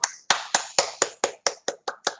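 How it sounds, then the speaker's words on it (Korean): Children in a classroom give a round of claps, about ten sharp, evenly spaced hand claps in a quick steady rhythm, fairly close and clear, with no talking. "와 박수 쳐주세요"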